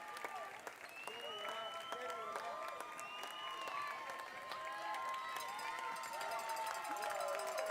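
High school girls' basketball crowd cheering the Lady Panthers near the end of the game, a sustained roar of voices and applause with sneaker squeaks, commentary running underneath.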